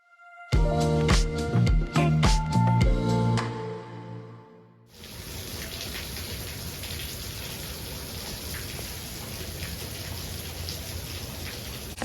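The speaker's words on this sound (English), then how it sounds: "I don't know if you're gonna be able to hear me at all because of the rain" Heavy rain pours steadily outdoors, a dense continuous hiss of drops after a few seconds of louder tonal sound, holding at an even level to the end.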